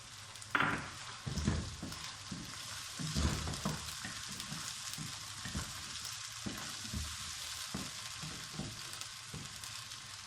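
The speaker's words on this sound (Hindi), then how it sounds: "अब हम इसके अंदर टमाटर डाल लेते हैं" Chopped tomatoes land in a hot pan of frying onion, ginger and garlic with a sharp burst, then a steady, close sizzle carries on with scattered stirring knocks and scrapes throughout.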